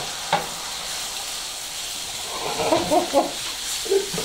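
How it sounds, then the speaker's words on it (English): Beef searing in oil in a pot for stew, a constant low sizzle with a few louder crackles and stirring scrapes in the second half, close and without speech. "What we're trying to do is get everything seared on the outside so we have all that added extra flavor."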